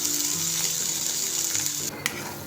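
Masala gravy for paneer masala bhaji cooking down in oil in a pan, giving a constant bright hiss and bubbling sizzle, close and steady, with a brief clatter near the end and no talking.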